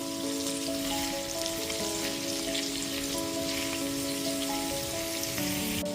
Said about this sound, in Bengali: এঁচোড়টা এখানে নাড়াচাড়া করে খুব ভালো মতো ভেজে নিয়েছি।